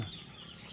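A chicken gives a single brief, fairly faint cluck, heard alone.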